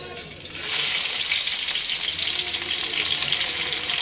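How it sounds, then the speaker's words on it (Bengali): Onion dropped into hot oil for a fish curry starts frying with a loud, steady sizzle right after a brief stir, and the hiss keeps on evenly close by. "আমি এখন দিয়ে দেবো পেঁয়াজ"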